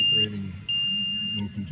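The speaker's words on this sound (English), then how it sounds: "once it senses that water, it sends the alarm" A boat's bilge water sensor alarm sounds as a shrill, steady electronic tone, first a short beep and then a longer sustained one after a brief gap, with a low hum and faint voices underneath.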